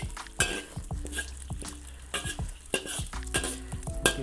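Food sizzling in a wok, likely eggs, while a utensil stirs and scrapes it around, with repeated sharp clinks and scrapes over a steady frying hiss.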